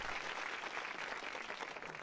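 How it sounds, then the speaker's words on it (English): Steady, dense clapping from a lobster character in Frog Detective 3, a continuous applause-like patter at even loudness with no voices. "Lobster clap."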